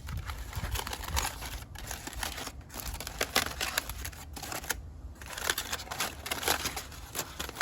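Foil packets around grilled salmon burgers being peeled open, giving a steady run of close, quiet crinkles and scrunches with small crackling taps and no pauses longer than a moment.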